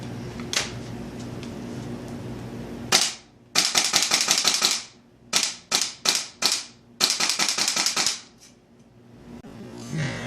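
An airsoft gas blowback M4 rifle fires in quick bursts of sharp snapping shots with short pauses between strings, close and crisp over a faint background hum.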